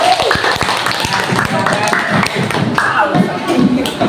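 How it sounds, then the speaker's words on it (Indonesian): A classroom of schoolchildren claps for a student group, loud close uneven clapping with knocks and shuffling, mixed with chatter and voices. "Tepuk tangan buat kelompok 3"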